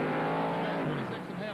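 A 1991 NASCAR stock car at the TranSouth 500 pulls back onto the track toward turn 1, its engine droning loud and steady beneath a commentator's voice.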